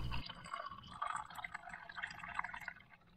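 Coffee pours from a French press into a cup, a soft, close trickle and splash of liquid filling the vessel for a few seconds, faint and without talk.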